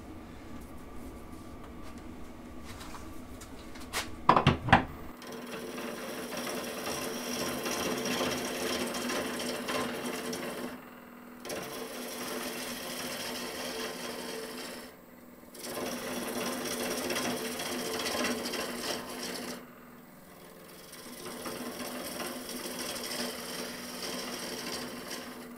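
A skew chisel cuts a wonky wooden goblet on a lathe, steady whirring cut noise running throughout with brief pauses as the tool lifts off, near and loud, after an initial clunk.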